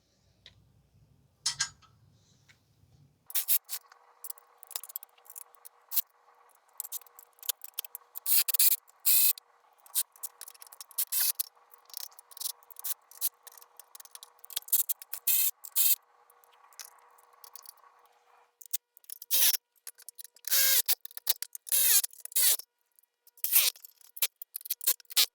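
Bolts being tightened while assembling a Princess Auto 12 ton hydraulic shop press, heard as a quiet run of close, irregular metallic ticks, rattles and scrapes, with a faint steady hum underneath through the middle.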